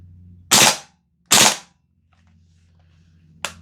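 VFC G36C V2 gas blowback airsoft rifle firing, with two sharp, loud cracks about a second apart and a third fainter shot near the end, each separated by near silence.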